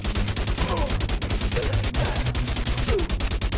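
Gunfire rattles through a Freakout: Calamity TV Show game session as dense, rapid, continuous shots, loud and unbroken, with faint voices underneath.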